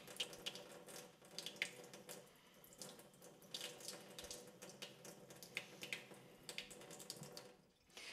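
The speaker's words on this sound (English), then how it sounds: "I'm going to give it a bit more water, just to make sure it gets a really good drink" Water poured onto a potted lemon cypress conifer, a steady splashing and trickling stream soaking the soil, close and continuous with small irregular surges.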